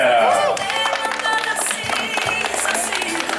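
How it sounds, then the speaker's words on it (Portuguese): A crowd at a birthday celebration in Guarulhos claps and cheers amid music and chatter, the applause dense and continuous with occasional whoops, voices mixed throughout. "Uma salva de palmas, galera."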